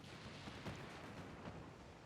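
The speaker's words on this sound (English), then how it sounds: "Oh, we got a torpedo hit." A torpedo strikes a warship in the naval battle game Ultimate Admiral Dreadnoughts, heard as a low, muffled boom with rumbling thuds under steady background noise, fairly quiet and distant.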